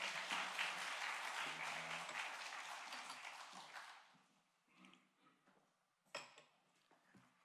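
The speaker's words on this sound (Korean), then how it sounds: "우리 최태수 목사님 나오실 때 큰 박수 함성으로 환영합니다" Church congregation at an early-morning service applauding to welcome the pastor, a faint wash of clapping that stops after about four seconds, followed by quiet room sounds and a single sharp knock.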